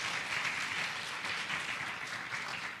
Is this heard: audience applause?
yes